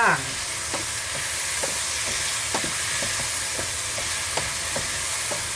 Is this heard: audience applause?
no